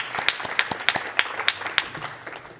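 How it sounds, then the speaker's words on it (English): Crowd at a national awards ceremony applauding, with distinct overlapping hand claps forming a moderate round of applause that gradually thins out toward the end. "And let's have a round of applause for them."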